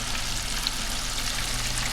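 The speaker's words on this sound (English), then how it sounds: "So right now they're sizzling hard, they're rolling hard." Bluegill fish fillets fry hard in hot oil, giving a dense, continuous crackling sizzle that stays loud and even throughout, with no voices.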